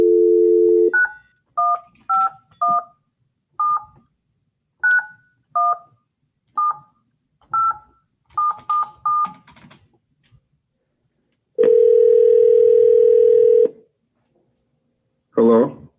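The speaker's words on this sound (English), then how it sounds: "as often happens with this phone, the first time I dial a number, it doesn't go through." Telephone dial tone followed by a string of keypad DTMF beeps dialing a number, short evenly spaced tones in irregular groups, then a long steady tone and a brief final burst, clear and close with no talk.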